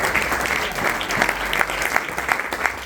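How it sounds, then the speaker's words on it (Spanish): A church congregation claps in steady, dense applause that fills the room, rising slightly in the middle and continuing throughout. "Denle un aplauso al Señor"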